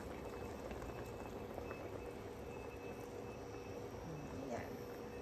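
A pot of salmon head sinigang broth boils at a low, even rolling bubble, continuous and fairly faint throughout.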